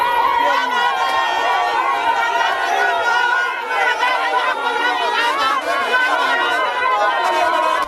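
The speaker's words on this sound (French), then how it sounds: "Une foule immense attendait le patron des l'UNC aux portes de l'aéroport" A huge crowd waits at the airport gates for the UNC party leader, producing dense, loud, continuous chatter, with many overlapping excited voices and a few rising, cheer-like tones.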